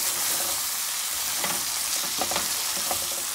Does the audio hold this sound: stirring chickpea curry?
yes